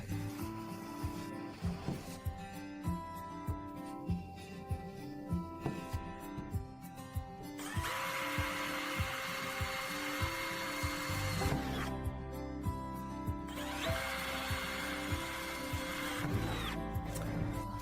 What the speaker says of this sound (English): Drill all 4 holes in the side door through.